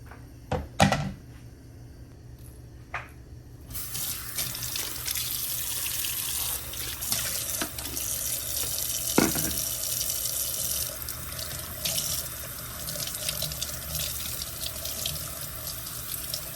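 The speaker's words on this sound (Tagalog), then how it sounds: "Pero hugasan pa uli natin kahit na nahugasan ko na." Tap water runs steadily from a faucet over sliced pompano fish in a sink, starting after a few knocks and clatters and continuing as a loud, unbroken gush; no voices are heard.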